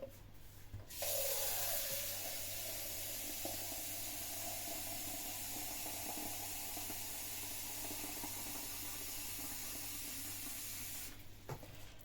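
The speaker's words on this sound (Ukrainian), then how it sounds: "І зараз набираю холодну воду." Cold tap water from a private well runs into a jar for fermenting tomatoes, making a steady, even rush that starts after a second, holds for about ten seconds, then stops.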